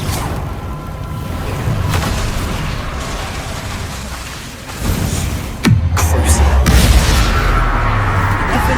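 Spell explosions in the Hogwarts Legacy video game: a continuous roar of blasts and crashing bursts, with a sharp louder impact midway followed by rumbling booms.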